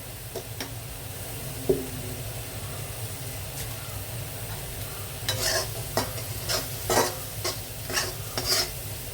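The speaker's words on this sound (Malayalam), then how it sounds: "ഒന്ന് ഇളക്കി കൊടുക്കാം" Clam meat in a chili-powder masala sizzles in a frying pan while a spoon scrapes and stirs it, with quiet frying at first and then a series of louder, rhythmic stirring strokes toward the end.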